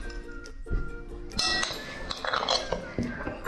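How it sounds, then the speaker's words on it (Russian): A spoon gently stirs ginger cake batter in a bowl, making scattered light clinks and taps against the dish over a quiet kitchen background. "Наверное, я перемешаю это аккуратно ложкой."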